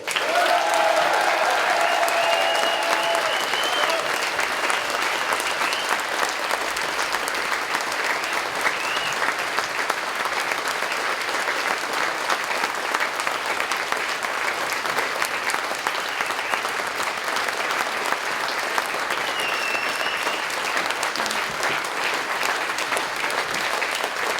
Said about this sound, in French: je vous demande un tonnerre d'applaudissements pour le président de Génération Z, Stanislas Rigaud.